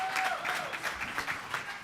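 Brief burst of audience applause at a Smithsonian panel, a roomful of hands clapping steadily and fairly close for under two seconds.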